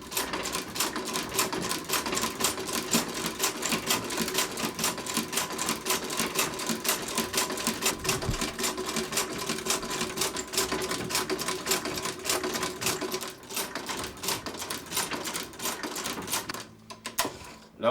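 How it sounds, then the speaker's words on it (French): A cobbler's sewing machine stitches a leather piece with a fast, steady mechanical rattle that runs close and continuous, then stops near the end. "c'est une machine à coudre de cordonnier"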